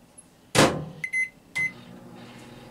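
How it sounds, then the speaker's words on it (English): A microwave oven heating the cut-off top of a jack-o'-lantern: a loud clunk of the door or start, then a few short electronic beeps close by. "I just grabbed the top off my jack-o'-lantern and threw it in the microwave"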